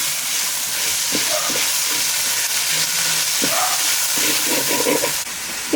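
Masala with tomatoes and onion is sautéed on a wood-fired stove, with a continuous sizzle under repeated scraping and stirring strokes from a spatula, close and fairly loud, with no talking.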